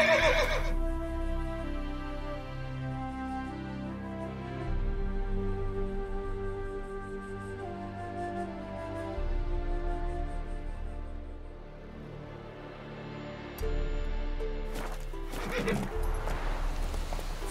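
Roach, a horse in The Witcher 3, gives a loud whinny at the start, then galloping hooves clip-clop steadily with a few more neighs and snorts over the rhythm.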